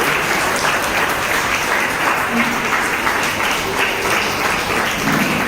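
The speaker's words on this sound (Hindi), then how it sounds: "सब ताली बजा के यीशु का धन्यवाद दें।" A church congregation at a child's first birthday celebration claps together in loud, sustained rhythmic applause that fills the room, with voices murmuring faintly beneath it.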